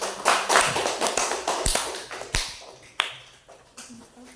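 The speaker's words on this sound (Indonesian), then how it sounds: "Kasih tepuk tangan" A class of students claps hands, a sparse, uneven scatter of sharp claps and taps close by, with several louder individual claps standing out rather than a full round of applause.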